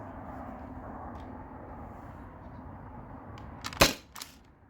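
A modified T4E HDB68 pistol fires an aluminum ball, one sharp loud crack near the end with a short echoing tail and a second fainter pop, over a quiet low background rumble.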